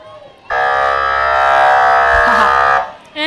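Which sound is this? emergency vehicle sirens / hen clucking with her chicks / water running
emergency vehicle sirens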